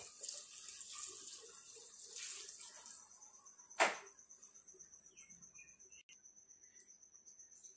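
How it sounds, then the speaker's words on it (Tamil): Water pours into a pot of vermicelli chicken biryani in a soft steady stream, with a brief clank of metal partway through and crickets chirping faintly throughout. "இப்போ அது தண்ணி ஆட் பண்ணிடலாம்"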